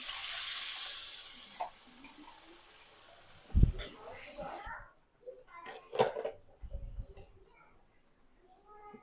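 Spices tipped into a reddened paste frying in a pan for homemade tehari, giving a broad hiss that fades, then sharp clatters of stirring and scraping with intermittent sizzle bursts.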